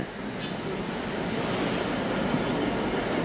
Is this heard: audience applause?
no